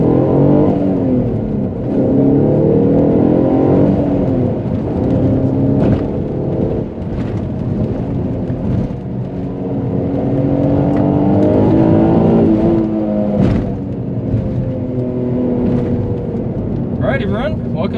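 An Alfa Romeo 147 GTA with a 3.2 litre V6 pulls hard, the engine note rising and falling through repeated revs and gear changes, loud and close, heard from inside the car with steady road rumble beneath.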